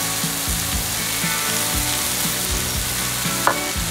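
Bacon and onions sizzle on a hot griddle, a constant close frying crackle broken by regular scraping and stirring strokes, with one brief sharp click near the end and no talking.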